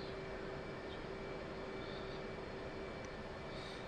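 Steady jet engine drone from a fighter aircraft, an F/A-18C Hornet in the DCS World flight simulator, a constant broadband roar with a faint high whine, even and unbroken throughout.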